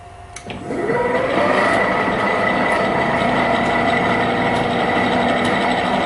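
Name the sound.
drill press running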